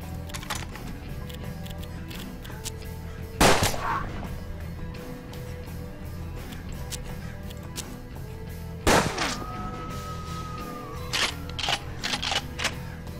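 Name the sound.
gunfire in the video game Hard West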